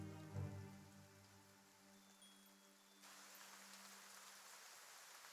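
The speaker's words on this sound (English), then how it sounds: "You hear the pouring of rain coming from outside." Steady rain pours outside, a soft even wash of hiss that thickens and grows louder partway through, heard alone without voices, after a low thump at the start.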